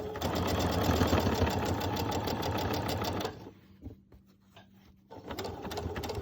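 A sewing machine stitches a fabric Olson face mask in a fast, steady mechanical rattle for about three seconds, then stops, leaving only faint handling noises before a brief quieter whir resumes.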